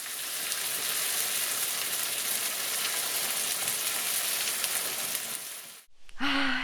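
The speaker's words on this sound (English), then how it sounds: "I'm gonna add these to a frying pan with some onions and a little bit of butter" Onions in butter sizzle steadily and close in a frying pan, a dense, even crackle that runs nearly seven seconds before cutting off abruptly into a brief rustle.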